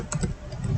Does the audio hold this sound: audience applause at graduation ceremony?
no